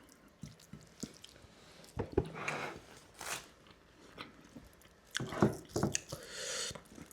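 Close chewing and biting of papad eaten with greens, irregular crunchy bites and soft wet mastication sounds coming in clusters, fairly quiet and with no talk.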